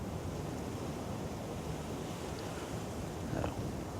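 Wind blows steadily across a golf course in blustery conditions, a constant broadband rush at moderate loudness with no distinct events and no talk.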